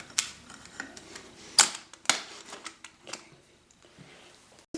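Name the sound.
releasing the latch of a springform cake pan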